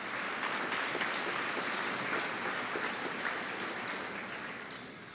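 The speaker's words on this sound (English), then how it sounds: "So please give them a round of applause as I introduce them." A graduation audience applauds the college's administrative team, a steady, dense wash of many hands clapping across a large hall that holds level and then begins to thin slightly toward the end.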